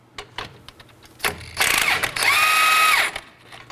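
An 18mm socket on a ratchet works the sway bar end link nut at the top strut mount of a 2018-2024 Chevrolet Equinox, giving a few short bursts of quick clicking, then a sustained whirring run near the end.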